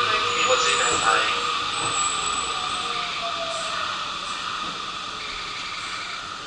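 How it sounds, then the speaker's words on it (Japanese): A Keio Line express train rolls into Kichijoji Station in Tokyo with a steady rumbling hiss and faint brake squeal, while a Japanese station announcement voice speaks over the noise. "到着の電車は急行電車です"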